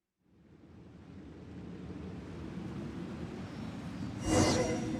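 Steady broad rush of a waterfall in Genshin Impact, building from silence into a continuous roar with a brief louder swell near the end, no voices.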